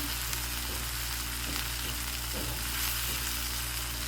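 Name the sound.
sautéing onion in a pan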